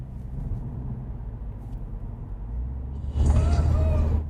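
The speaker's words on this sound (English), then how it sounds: "There's a sound between the modes. Actually, my favorite one, let me just go back to go-kart mode." Inside a 2025 Mini Cooper JCW, a low cabin rumble is broken near the end by the go-kart mode's synthetic sound effect, a short, loud tonal burst with sweeping harmonics.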